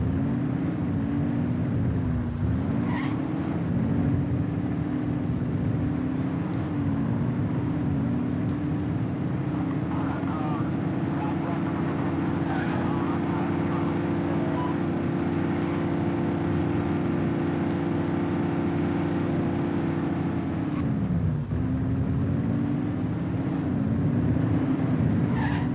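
Steady engine drone of cars driving in The Precinct, a police game, a continuous loud hum that dips and swells as vehicles shift speed, with no talking.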